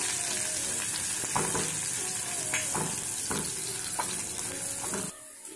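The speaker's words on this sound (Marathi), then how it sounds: "1 मीडियम साइजचा कांदा घेतला होता आणि तो बारीक उभा असा कापून घेतलेला आहे, तो आपण फोडणीसाठी घालूया" Thinly sliced onion fries in a mustard seed and cumin tempering, sizzling loudly and continuously while a spatula scrapes and stirs the pan at a steady, irregular rhythm before the sound drops away.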